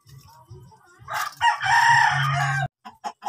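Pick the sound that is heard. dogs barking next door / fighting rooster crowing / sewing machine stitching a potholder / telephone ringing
fighting rooster crowing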